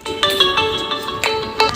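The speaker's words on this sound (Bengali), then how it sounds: "স্মিতাকে ফোন করতেই হবে ওর হাজব্যান্ডকে" A phone ringtone plays alone during a lighthearted call game at a women's kitty party, with a bright repeating tonal melody and regular pulses throughout.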